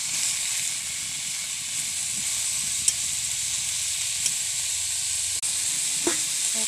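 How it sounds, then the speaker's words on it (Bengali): Bitter gourd slices fry steadily in a covered pan over low heat, giving a soft continuous sizzle with a few faint clicks and one brief dip near the end; no one speaks. "করলাগুলো ভালো করে নেড়ে চেড়ে ঢাকা দিয়ে ভালো করে ভেজে নিতে হবে।"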